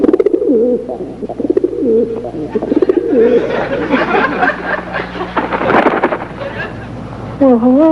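A dove coos in a film soundtrack, soft rolling calls repeating under dense music and effects, with a low rumble and a voice joining near the end.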